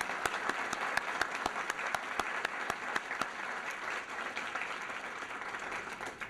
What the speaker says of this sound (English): I think it's appropriate that we give the recipients tonight one big round of applause for their great work that they've done